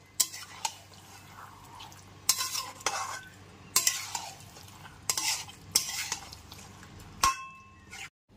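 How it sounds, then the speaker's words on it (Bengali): Marinated mutton for curry is stirred and sautéed over a high gas flame: a sizzling pan under repeated scraping, clanking strokes of a spatula, several distinct bursts with quieter sizzling between. "এরপর খুব ভালো মতো মিশিয়ে কষিয়ে নিতে হবে।"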